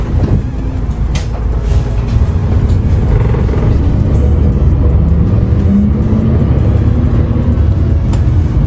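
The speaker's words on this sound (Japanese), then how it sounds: "このバスは湯田中駅行きです。" A local bus bound for Yudanaka Station drives along a mountain road, its steady loud engine rumble and road noise filling the cabin continuously.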